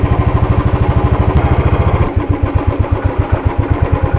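A Royal Enfield Bullet motorcycle's single-cylinder engine thumps loudly and up close, a steady rapid beat that shifts to a heavier, more spaced pulse halfway through as the bike moves off in first gear.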